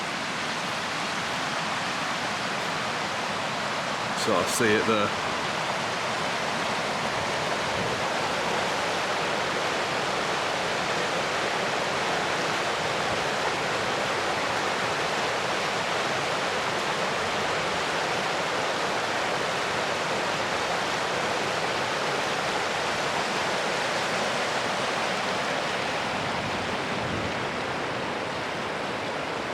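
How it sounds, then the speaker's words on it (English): A waterfall in Glen Etive roars in a steady, broad rush of falling water, loud and unbroken throughout. Someone speaks one brief line early on. "Take you over to this waterfall."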